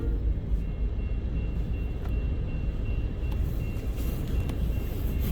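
CN freight train 3280 with a second locomotive, a Tier 4 diesel, arrives southbound at Ladysmith, a steady low rumble of engines and rolling cars running throughout at close range.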